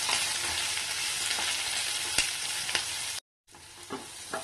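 Curry leaves and masala sauté in a pan as a dense, steady sizzle with occasional spoon scrapes and clicks. The sound cuts out briefly near the end, then the frying resumes.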